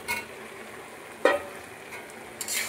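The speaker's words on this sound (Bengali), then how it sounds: "এবার দিয়ে দেবো কেটে রাখা টমেটো" Chopped tomatoes, both raw green and ripe, tipped into a pan of softened cabbage frying on the stove, giving a sudden short burst of sizzle and hiss over a quieter background crackle.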